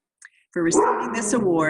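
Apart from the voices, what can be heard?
dog barking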